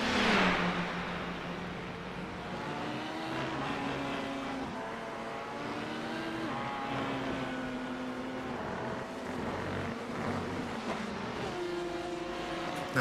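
Race cars run three wide down the front stretch at Le Mans in a sim racing event, their engines droning steadily with shifting pitch as they pass, a continuous mid-distance roar with no voices.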